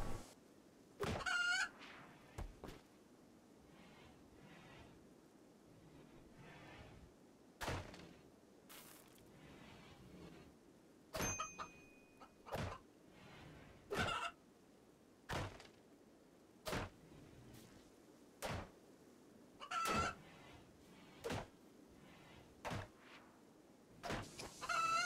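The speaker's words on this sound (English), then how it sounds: "I'm gonna kill this chicken." A chicken in the Rimworld video game clucks in short bursts, scattered clicks and knocks in between, fairly quiet with no talking.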